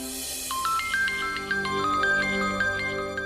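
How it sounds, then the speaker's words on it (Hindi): A phone rings with a bright, repeating electronic ringtone melody of quick stepped notes, close and clear, with no talking. "सुकांत को फोन लगाओ और जल्दी बुलाओ उसे घर पे।"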